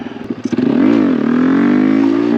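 A Honda Grom motorcycle's small engine sputters, then revs hard with the throttle wide open during a wheelie attempt. The pitch climbs, dips and holds as a loud, sustained drone close by.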